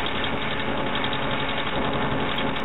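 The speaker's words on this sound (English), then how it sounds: "Here's a tractor and a bus." Tractor and bus sounds from a space probe recording form a steady, loud engine drone with a mechanical rumble, continuous and alone throughout.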